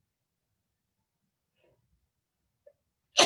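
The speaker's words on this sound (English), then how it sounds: "And I have to sneeze." A single sharp, loud sneeze from a person in an informal group discussion, bursting out close to the mic at the very end after a few seconds of near silence.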